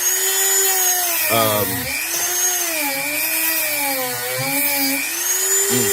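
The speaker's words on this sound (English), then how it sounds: "sanding" A power sander whines loudly up close, its pitch wavering and dipping as the tool bears down, with no voices over it.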